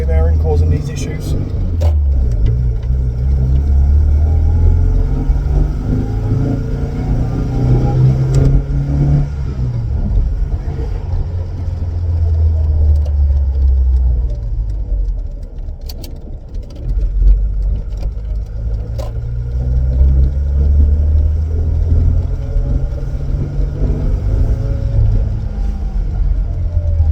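A Volvo 240 drives along with a suspected carrier or wheel bearing fault, its steady engine and road drone carrying a low rumbling hum throughout while someone talks over it.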